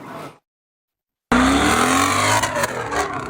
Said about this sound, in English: Spinning cars and screeching engines keep neighbors in southeast Portland in their homes Sunday night.